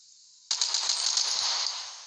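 Uzi submachine gun firing in a video game, a sudden sustained burst of rapid shots lasting well over a second after a brief quiet lead-in, close and loud.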